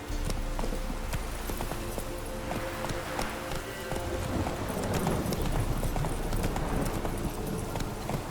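The horse Roach galloping in the video game The Witcher 3, a fast, continuous hoof clatter that is loud and close, with faint background sounds.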